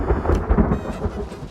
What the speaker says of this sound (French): C'est quoi le tonnerre?